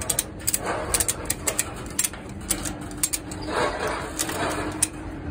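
A ratchet strap being cranked tight over stacked utility trailers, giving a steady run of sharp clicking ratchet strokes close by, with a low background hum and occasional bird calls.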